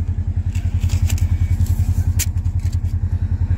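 A Polaris ATV on a guided ride near Mussoorie, Uttarakhand, its engine giving a loud, steady, fast low throb, with faint clatter and scraping from the ride and no talking.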